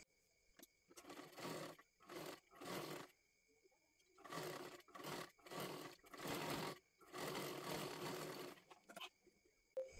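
A sewing machine stitches the back of a puff sleeve in repeated bursts of rapid mechanical whirring, separated by short pauses, close and clear with no talking.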